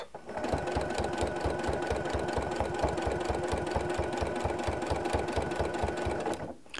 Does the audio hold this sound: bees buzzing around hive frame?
no